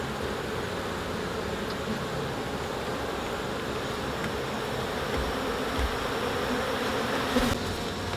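Honey bees in a packed urban beehive, a dense continuous buzzing drone close by, steady and loud throughout with a few faint bumps of handling near the end.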